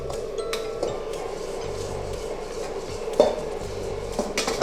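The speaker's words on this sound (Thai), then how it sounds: "ผัดคลุกเคล้าให้เข้ากันนะครับ" Fried pork belly stir-fried and tossed in a pan over high heat, with steady frying hiss and repeated metal clinks of the spatula against the pan, close and alone.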